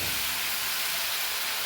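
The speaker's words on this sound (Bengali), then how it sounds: "এবার চর্বিটা দিয়ে দিলাম। চর্বি আর আলু দিয়ে দিচ্ছি।" Beef fat and potatoes dropped into mutton already cooking in a hot pan set off a loud, steady hiss of sizzling that holds without a break.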